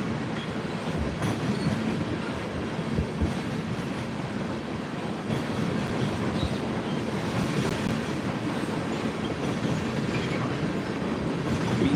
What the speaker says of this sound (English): 714 ethanol train.